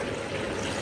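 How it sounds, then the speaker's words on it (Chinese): Water pours into a braising pot of pork belly and abalone, a short steady splashing rush at close range with no other sounds. "加水"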